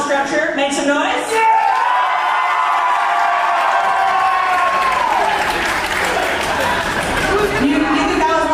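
A large crowd at a gingerbread house competition bursts into loud, sustained applause and cheering that swells and holds for several seconds, with voices mixed into the roar.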